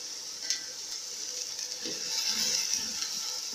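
Vegetables with vinegar, soy sauce and chilli sauce frying in a pan for chicken fried rice give off a steady low sizzle, joined by a few faint scraping, stirring clicks.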